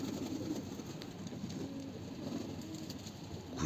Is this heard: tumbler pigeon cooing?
yes